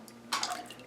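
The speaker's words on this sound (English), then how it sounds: "take it and actually just drag the piece through as you're pouring it" Ceramic glaze is poured over a pottery piece as it is dragged through the stream, a short wet splash and drip of liquid, close and brief, after a quiet start.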